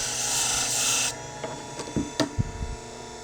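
Knife blade aggressively sharpened on a Scimech Jr machine: a steady, close grinding rasp for about a second, then a few short scraping strokes and taps at moderate loudness, with no talk.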